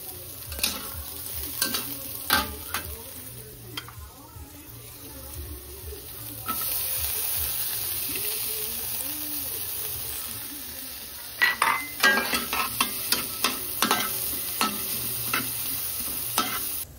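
Garlic, onion and ginger sautéing in a hot pan for tinola, with a steady sizzle under repeated stirring scrapes and clinks of a utensil against the pan.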